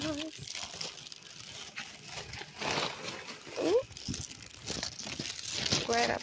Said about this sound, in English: Glad I put it in the plastic bag because it's raining.